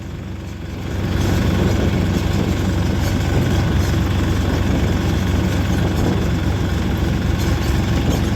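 Tractors driving past near a sugar mill, a steady low diesel rumble that swells after the first second and stays loud and constant, with no voices.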